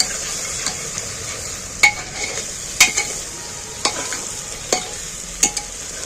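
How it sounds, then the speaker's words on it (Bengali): Garlic frying and being stirred in a pan for a mutton curry, a steady close sizzle broken by sharp metallic scrapes of the spoon against the pan every second or so. "রসুনটাকেও আমি সেইভাবেই ঘেঁটে ঘেঁটে ভাজছি"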